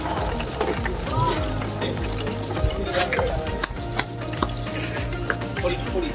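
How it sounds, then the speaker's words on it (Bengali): Sea fish frying in a pan at a street food stall, with a steady sizzle under scraping, stirring and pan clatter, while voices talk nearby. "কি সুন্দর ফ্রাই হচ্ছে"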